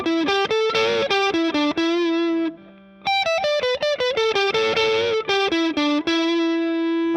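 PRS CE24 electric guitar played through the neck pickup with distortion, loud sustained distorted notes and chords in a quick melodic run, with a short pause midway, played alone.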